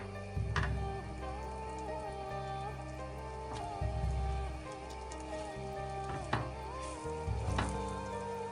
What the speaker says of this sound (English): I'm gonna fry each piece of a chicken on both sides